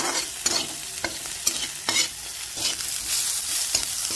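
Onions roasting in a kadhai are stirred now and then, a steady dry sizzle broken by sharp scraping strokes of the spoon about every half second, close and fairly loud with no talk.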